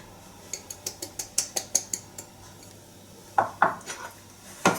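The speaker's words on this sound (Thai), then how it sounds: "จากนั้นเราก็คนนะคะคนให้เข้ากันนะคะ" A spoon stirs crushed biscuits with butter and icing sugar in a bowl, giving a quick series of light clinks and scrapes followed by a few heavier knocks, close and fairly quiet.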